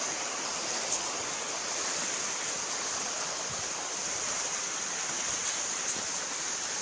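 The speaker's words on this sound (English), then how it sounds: "That is a nice waterfall right there." Waterfall rushing in a continuous, even broadband roar with a steady hiss, fairly close and unbroken, no voices.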